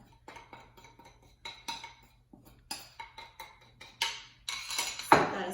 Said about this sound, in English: whisk until it's smooth and mixed together.